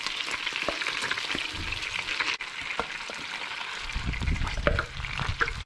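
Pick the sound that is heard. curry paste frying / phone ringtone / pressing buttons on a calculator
curry paste frying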